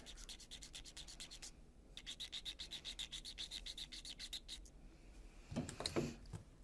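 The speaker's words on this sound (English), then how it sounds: "you can take your sandpaper and clean the paint off the surface" Sandpaper scrubbing paint off the surface of a small model piece, heard as fast, even back-and-forth rasping strokes in two close bursts, followed by a brief handling clatter.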